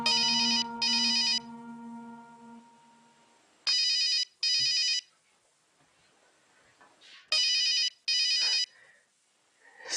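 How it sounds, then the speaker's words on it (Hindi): A mobile phone ringtone rings in repeated short bursts, bright and electronic, with quiet pauses between rings and no talk over it. "सानी का फोन?"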